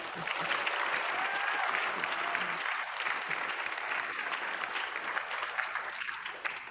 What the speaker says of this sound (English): let's welcome Peter and Sandra with a warm round of applause as well